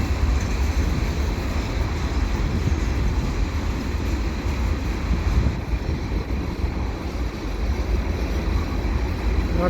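A CP mixed freight train with yellow TTX boxcars rolls past at close range, a steady loud broadband rumble of wheels and cars with wind buffeting the microphone throughout, no talking.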